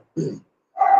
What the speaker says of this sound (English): Sorry for the dog scream, by the way.